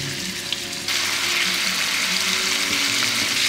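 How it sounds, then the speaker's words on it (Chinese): Duck meat hits hot oil with ginger slices, breaking into a loud, continuous close sizzle in a pan. "鸭肉下锅炒"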